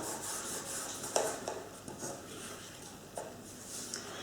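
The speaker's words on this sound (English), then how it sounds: "I'm just going to use my finger just to rub that in a little bit more" Fingertip rubbing flitter flakes onto a paper craft card, heard as a soft, close, continuous rubbing and scratching with a few slightly louder strokes, faint and alone.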